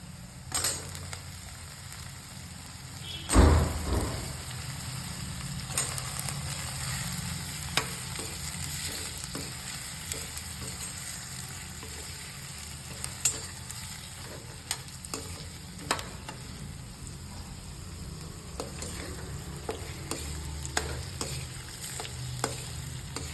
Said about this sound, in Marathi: कांदा आता छानपैकी परतून झालेला आहे तर मी त्याच्यामध्ये वांगी घालते